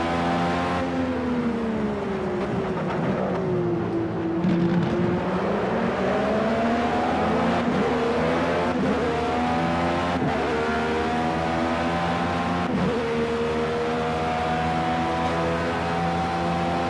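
A Formula B race car engine in Project Cars at Road America, droning loudly and continuously as it revs up and down through gear shifts on a long straight, with a second car's engine close by.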